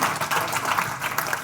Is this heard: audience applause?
yes